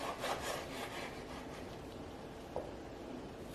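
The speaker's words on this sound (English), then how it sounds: "I'm going to cube these up so we can put them in the grinder." A knife slices raw ribeye steaks into cubes on a board, producing a steady, close, soft rasping cut sound with a small tap partway through and no talk.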